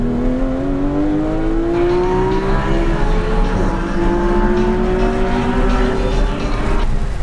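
A supercar accelerates hard out of a turn on a race track, its engine note climbing steadily through the gears in a loud, continuous roar with rising harmonics heard from inside the car.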